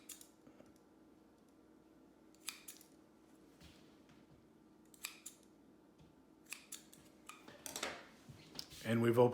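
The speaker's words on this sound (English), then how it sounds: "So I'm going to take this pair of scissors," Scissors snipping into bread dough in a home kitchen, a series of sharp, faint clicks spaced irregularly across a quiet background, with a louder clatter at the end.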